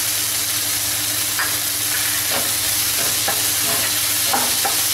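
Mushroom biryani masala with curd fries in a pan while being stirred, giving a steady, close sizzle with scraping stir strokes every second or so and no talk.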